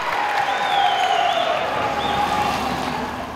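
A crowd at a home game cheers and applauds in a sustained, loud wash of clapping and yelling, with sharp whistles and shouts rising above the roar.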